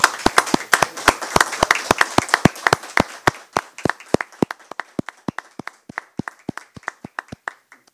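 Small group clapping for COVID-19 survivors and health staff at a discussion event, sharp distinct claps in a brisk rhythm that thin out and fade to a few scattered claps, close and clear.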